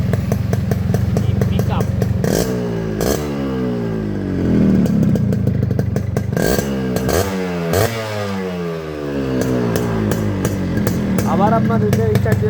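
A Japanese Yamaha RXS 115 motorcycle is kicked into life and idles, its two-stroke engine chattering and rising and falling through several revs, close and loud, with a voice talking over parts of it.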